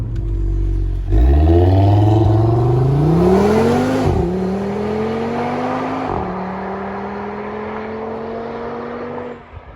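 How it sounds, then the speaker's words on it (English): Audi RS3 with a cheap exhaust mod driven hard, a loud close engine roar climbing through the revs with clear gear-change dips, then holding steady before cutting off suddenly, no voices. "Let's just let him just carry on ragging my RS3 around"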